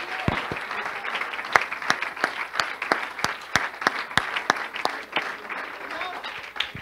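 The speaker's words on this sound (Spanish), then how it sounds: "Un aplauso fuerte al Señor, aleluya." Congregation clapping at a church youth service, with sharp, evenly spaced rhythmic claps over general applause and voices.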